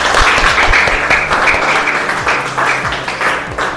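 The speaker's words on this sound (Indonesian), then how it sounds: "Kita tepuk tangan" Dense, steady clapping from a classroom group, close and loud, with no speech over it, running evenly throughout.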